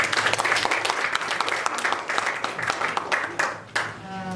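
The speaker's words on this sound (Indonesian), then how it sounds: "Kita berikan tepuk tangan dulu" Audience applause at the close of the final round of a school debate competition, dense and steady clapping from a crowd that thins and fades out near the end.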